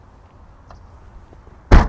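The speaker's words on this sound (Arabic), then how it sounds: "شنطه العربيه دي بتفتح بالريموت ومن جوه ومن هنا، 3 طرق، بس بتتقفل" The trunk lid of a 2021 Mercedes A180 Sedan is shut by hand with a single sharp, close slam after quiet handling noises.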